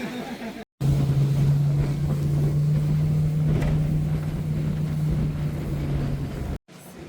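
A steady motorboat engine drones with rushing wind and water noise on a lake in Guatemala, continuous and close, broken only briefly by short gaps.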